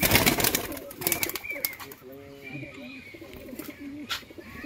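Pigeons kept by a pigeon seller coo in low, wavering rolls partway through, close by, while someone talks over them and other birds chirp faintly.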